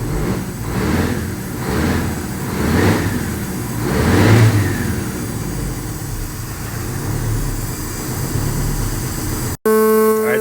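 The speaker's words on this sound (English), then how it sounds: "We're running on 4 cylinders." A Detroit Diesel 8V92 engine, brought back after twenty years, runs rough on only four cylinders with a loud uneven throbbing that swells and eases, ending abruptly with a sharp horn-like tone.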